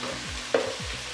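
Chicken keema with garam masala, black pepper, crushed coriander and red chilli stir-fried in a pan for stuffed karela, heard as a brief scraping stir with one sharp metallic clank midway over a low sizzle.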